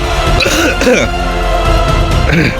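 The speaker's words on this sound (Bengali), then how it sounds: "দেখুন আমি একটা কাশি দিচ্ছি মুরগির রিয়াকশান দেখুন" A loud, close cough with a throaty rasp, sounding over a steady background hum and what may be chickens, in a brooding house with young chicks.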